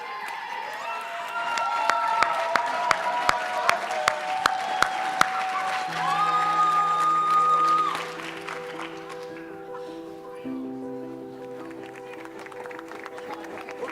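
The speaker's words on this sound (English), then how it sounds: "let's give them a big round of applause" Applause from a school audience for students on stage at a community and environment school event: a crowd clapping and cheering at moderate distance over a steady electronic hum and tones, with sharp ticks mixed in.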